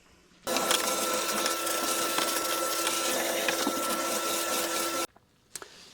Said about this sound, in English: now we're going to vacuum this off and get ready for painting